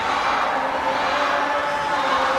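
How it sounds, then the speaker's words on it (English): A sports hall audience at a junior wushu championship in Indonesia cheers for a performing athlete, a steady dense roar of many voices that holds evenly throughout without any individual speech. "we can hear the whole hall was actually cheering for her"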